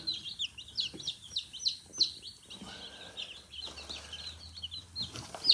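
Many newly hatched chicks of mixed breeds, some lavender-colored, peep together in a brooder under heaters, a dense stream of high, rapid cheeps that stays steady throughout with no talking.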